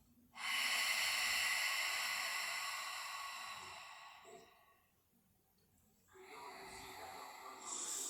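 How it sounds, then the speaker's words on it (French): A long, steady breath pushed out through the mouth during a Pilates exercise, close and breathy, fading over several seconds, then a second softer exhale follows after a brief pause. "Et je souffle par la bouche."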